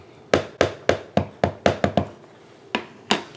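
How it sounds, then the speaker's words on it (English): A rubber stamp inked in black pressed onto paper on a hard surface, heard as a series of about ten sharp, close wooden knocks and taps in an uneven rhythm, alone without talk. "I'm going to stamp this little kitty cat using basic black"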